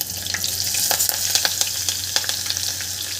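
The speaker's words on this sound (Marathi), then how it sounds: "यामध्ये आता आपल्याला आलं लसूणची पेस्ट घालायची आहे" Ginger garlic paste and curry leaves frying in oil for vegetable dal khichdi, a loud close sizzle broken by repeated crackling bursts and stirring, with no talking.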